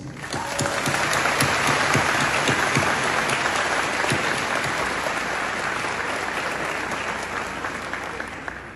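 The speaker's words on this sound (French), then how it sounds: "ce concert d'applaudissements" A large crowd applauding steadily, dense sustained clapping that holds at full strength before easing slightly toward the end.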